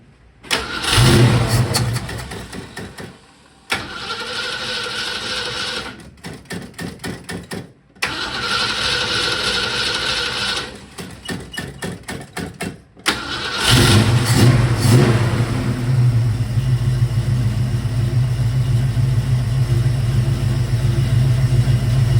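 A car engine with a freshly cleaned 600 CFM Summit carburetor, primed with starting fluid, cranks in several bursts, sputtering and stalling between tries, then catches and roars into loud, steady revving close by.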